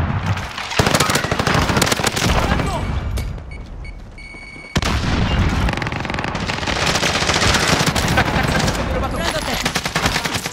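Rapid automatic gunfire rattles through a multiplayer shooter match, loud and close, in near-continuous bursts with one short lull before the shooting resumes.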